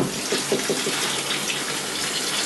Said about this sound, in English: I'm going to fill this up with water, or just a little bit